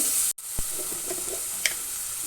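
Bitter gourd and onion sauté in a pan with a steady, close hiss broken by a brief gap and a few soft stirring knocks, with no talking.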